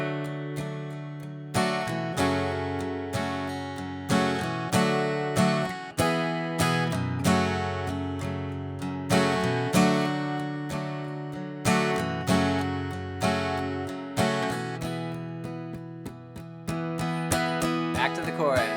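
Rhythmic acoustic guitar strumming plays the eight-bar bridge chord progression of a song in a steady eighth-note pattern, with full, ringing chords that change every few beats, alone and close.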